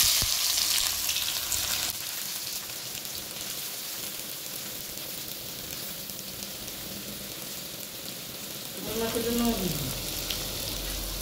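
Onions fry in hot oil with cardamom for a home-style mutton curry, giving a soft, steady sizzle and crackle close by; a brief rising whine near the end interrupts it.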